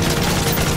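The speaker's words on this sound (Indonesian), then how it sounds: "Ada suara tembakan." Gunfire in Call of Duty Modern Warfare 3, a dense, continuous wash of rapid shots filling the whole short moment at steady loudness, with no talk over it.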